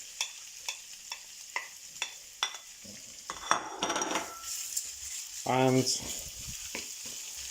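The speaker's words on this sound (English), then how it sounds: "once it's hot, I will add the mince" Minced meat hits hot oil in a pan while cooking spaghetti with minced meat, with a series of sharp utensil taps on the pan followed by rising sizzle and stirring; a brief word is spoken.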